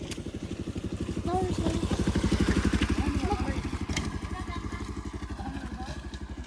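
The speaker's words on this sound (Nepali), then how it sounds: "बाइक आयो तर बाइक आएछ है" A motorcycle engine runs close by with a steady, throbbing putter that holds loud for the whole stretch, with voices in the background.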